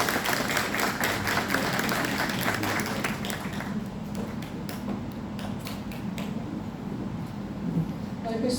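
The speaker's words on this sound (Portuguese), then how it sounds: "Eu gostaria de pedir uma salva de palmas para Ellen Pauline Carvielo Dora." Audience applause at an autism symposium, sustained clapping from a seated crowd that starts strong and gradually thins, with a few scattered claps continuing near the end.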